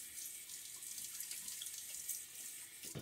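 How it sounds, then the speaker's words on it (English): Tap water runs steadily into a sink as a safety razor is rinsed after shaving, a close, even hiss that ends in a short splash, with no voices. "Let me rinse."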